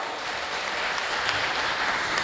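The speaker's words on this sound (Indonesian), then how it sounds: "berikan tepuk tangan untuk beliau" Audience clapping for a guest, Bapak Anas, at a BKKBN East Java event: a steady, even wash of applause at moderate, somewhat distant level, with no voices over it.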